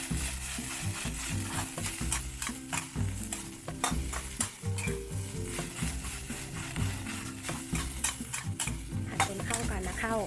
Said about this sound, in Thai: ผัดจนเข้ากันนะข้าวไม่ติดเป็นก้อน